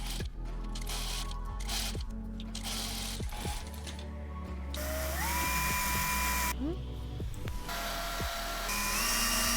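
Sewing and drilling work on parts of a toy hare, with a machine's repeated short whirring bursts and stops, close and loud, separated by handling noise.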